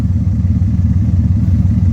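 Steady low exhaust drone from the active sound exhaust of a BMW 420d M Sport coupe, loud and close, holding an even idle rumble with no talk over it.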